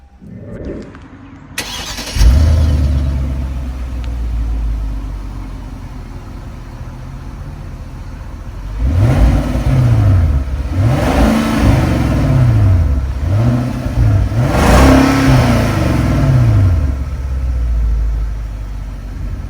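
A 2009 Hyundai Genesis with the 4.6 V8 fires up with a sharp starter catch and settles into a smooth idle, then is revved in several rising and falling blips, loud and close, with no talking.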